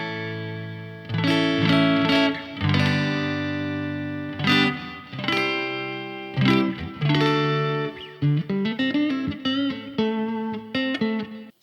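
AliExpress Strat copy electric guitar played clean on the neck pickup through a Fender Mustang amp set to a deluxe reverb model, a series of ringing strummed chords and single notes with reverb tails, ending in quicker picked phrases, no talking.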